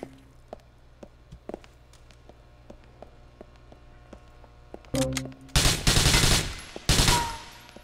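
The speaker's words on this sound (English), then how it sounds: "He's shooting at me now" Gunfire in GTA IV: scattered sharp single shots and clicks at first, then heavy loud bursts of automatic fire in two or three long rattling volleys near the end, no talk over it.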